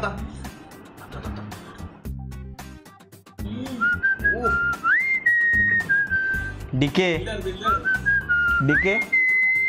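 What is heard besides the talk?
person whistling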